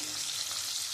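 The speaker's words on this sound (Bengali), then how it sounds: "আমি কাঁকরোলটা একটু লাল লাল করে যে ভেজে নিয়েছি," Teasel gourd (kakrol) pieces fry in hot oil with a soft, continuous hissing sizzle, faint and steady with no talking.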